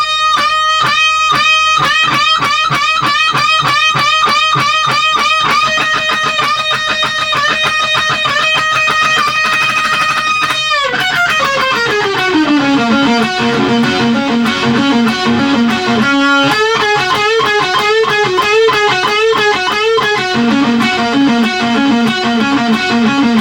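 A distorted electric guitar solo from the studio version of a song plays loud and alone, starting with fast repeated picked notes and then moving into lower sustained, bending phrases.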